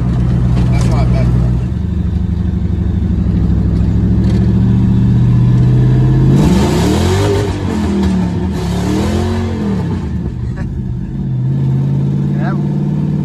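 A Ford Mustang GT revs hard with its wheels spinning, a loud, sustained engine roar that swells and dips in pitch through the middle, with people talking over it.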